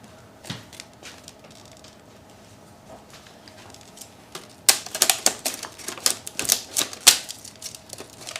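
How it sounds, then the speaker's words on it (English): Scissors cut through plastic blister packaging around batteries: sparse small clicks at first, then a burst of sharp, irregular snips and crackling plastic close by. "Cutting the blister package with plastic with scissors"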